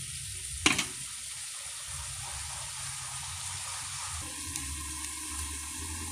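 A pan of marinated meat sizzles and fries steadily as its liquid cooks off, with a brief louder burst near the start and a continuous close hiss throughout.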